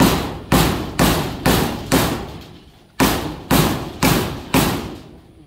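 A series of heavy hammer blows, eight strikes in a steady rhythm with a brief pause midway, each a loud thud with a short ring-out.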